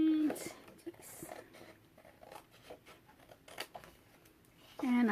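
Scissors fuzzy cutting around paper embellishments for a 9x6 mini album, producing faint, scattered snipping and paper rustles at close range with soft crafting handling noises.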